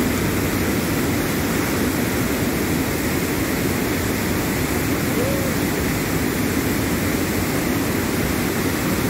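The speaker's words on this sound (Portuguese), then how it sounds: "Muita água tá indo ali." A constant heavy roar of rushing water, broad and unbroken throughout, loud and close, with no clear talk standing out.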